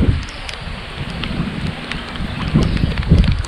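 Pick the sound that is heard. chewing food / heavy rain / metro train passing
heavy rain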